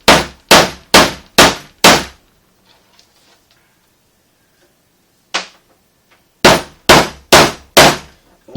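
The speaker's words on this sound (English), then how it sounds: "we'll hammer this one." Metal ferrules on a snare cable struck with a hammer against a big metal puck, sharp ringing clangs: five quick evenly spaced blows, a long silence, one lone hit, then four more in steady rhythm, close and loud.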